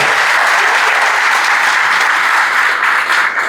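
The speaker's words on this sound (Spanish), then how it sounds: "ustedes se merecen un aplauso por toda esta labor" A church congregation at an anniversary service applauds, a loud, dense and steady roar of many clapping hands throughout.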